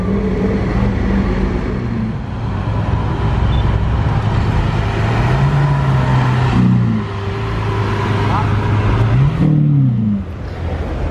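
A hypercar drives through the casino square in Monaco amid loud street traffic, its engine rising and falling in pitch as it accelerates past, with a steady background rumble of other vehicles.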